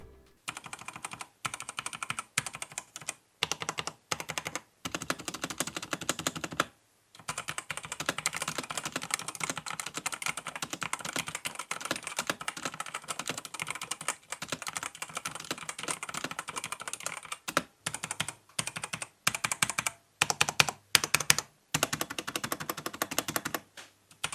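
Steady, rapid typing on a Genesis Thor 230 TKL mechanical keyboard, a dense stream of clicky, slightly pinging keystrokes with brief pauses, close and fairly quiet.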